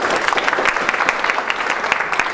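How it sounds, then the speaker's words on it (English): At a Markham community gathering, an audience gives a short round of scattered applause, individual claps audible in a brief burst. "Let's give them applause."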